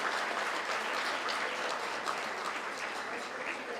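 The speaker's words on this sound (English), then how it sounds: "Please, please, give him a round of applause." Steady, dense applause from a crowd, many hands clapping continuously throughout without pause.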